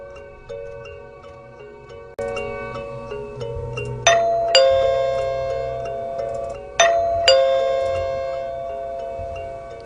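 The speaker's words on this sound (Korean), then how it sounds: "초인종이 울렸다." Two-tone ding-dong doorbell rings twice as a horror radio drama sound effect, each chime bright and ringing out over a low background music bed.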